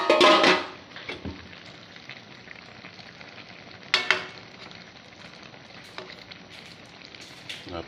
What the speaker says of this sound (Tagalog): Kumukulo na guys yung paksiw natin guys.